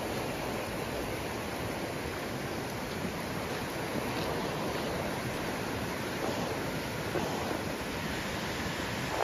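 Waterfall at the first level of a falls on a Cebu canyon trip, heard as steady broadband rushing water that holds an even level throughout with no talking.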